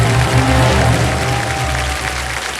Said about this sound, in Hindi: तालियां बजती रहें इनके लिए स्वागत में।